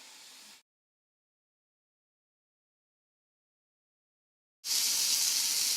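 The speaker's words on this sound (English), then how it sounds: "it's getting a good sizzle" Spinach sizzles in a hot pan for a mushroom chicken dish: a short burst of hiss at the start, a silent gap, then a loud, steady sizzle from near the end.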